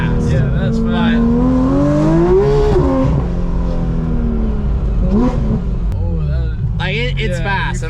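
Porsche GT3 RS accelerating hard with tires spinning, a loud engine roar climbing and dropping in pitch through shifts, heard from inside the car while people talk over it.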